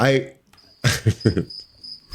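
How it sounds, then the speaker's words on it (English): Crickets chirp in a continuous high, thin trill that runs steadily through the moment, while a voice speaks in short bursts over it. "It's crickets."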